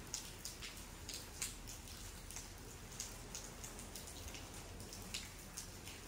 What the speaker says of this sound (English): It always rains on the last day of our holiday.